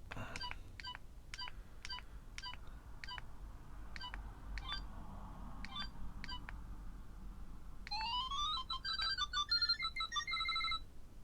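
A Digimon Digivice 2020 virtual pet toy plays a short electronic beeping jingle, with separate chirpy beeps followed by a quick run of rising and falling square-wave notes, close and clear over faint background hiss.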